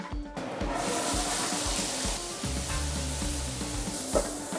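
Peppers and onions sizzle and fry steadily on a hot griddle, a dense continuous crackle close up, with occasional scraping and stirring of the vegetables.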